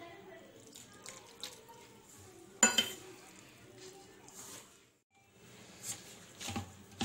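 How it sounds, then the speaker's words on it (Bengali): Flour dough is kneaded by hand for Mughlai paratha while water is added a little at a time, giving quiet, irregular wet squelches, slaps and dribbles close by. "ময়দাটা আমি মেখে নেব এইভাবে আস্তে আস্তে জল দিয়ে।"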